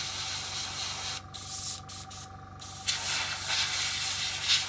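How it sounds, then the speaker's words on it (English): An airbrush blows air to dry a layer of Vallejo model paint, a close, steady broadband hiss that cuts out in several short breaks midway and then resumes. "It's an airbrush, but you can use it for drying your paint as well between layers."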